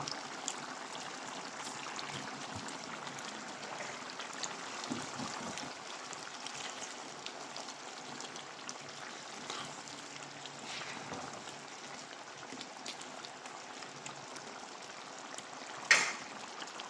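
Chicken broth simmers at a boil in a covered pot, a faint, continuous bubbling and trickling with a soft knock near the end and no voices.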